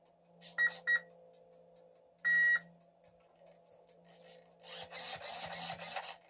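Electronic beeps chirp twice in quick pairs and once more, over a faint hum, as an Arrma Raider Mega RC car powers up, then a buzzing, rasping motor sound rises briefly near the end.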